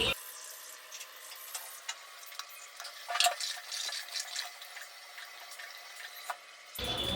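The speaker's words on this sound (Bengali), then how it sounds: "এখন ব্রাশ করবো।" Toothbrush with Colgate toothpaste scrubbing teeth in a bathroom, heard as quiet, close, irregular scratchy brushing strokes with faint running water behind them and a fuller splash of water at the end.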